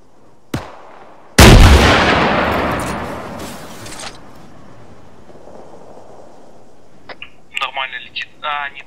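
Gunfire in ARMA 3 aimed at a UAZ vehicle: a sharp shot, then a loud booming shot that rolls off in a long echoing decay. Brief voices follow near the end.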